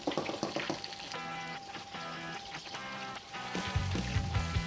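Pork chops fry in a wok over very gentle heat, giving a soft, continuous sizzle with light crackles and faint stirring scrapes, close and quiet.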